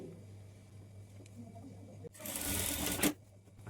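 After a quiet stretch, a sewing machine whirs in one short burst of about a second, stitching the darts on both sides of a simple blouse, then stops with no talking.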